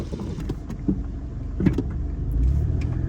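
A car driving slowly through a quiet residential neighborhood in Golden Valley, Minnesota, giving a steady low road and engine rumble that swells slightly toward the end, close and continuous with no talking.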